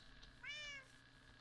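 Cat meowing in the Minecraft video game: a single clear, rising-then-falling meow of about half a second over a low background hum, with no speech.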